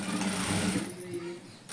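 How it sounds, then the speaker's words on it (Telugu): A sewing machine runs steadily as it stitches a blouse, a close continuous mechanical whir that eases slightly near the end, with a brief rise in level at the very close. "నిన్న పెట్టిన వర్క్ ఈరోజు బ్లౌజ్ కుడుతున్నాను."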